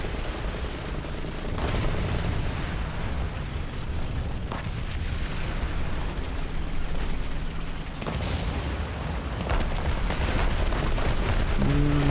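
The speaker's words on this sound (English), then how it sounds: "It just dropped some artillery." Artillery shells landing around tanks in War Thunder, with an IS-3 nearby, give a dense, continuous rumble of booms and blasts at steady loudness, some impacts sharper, with no talk.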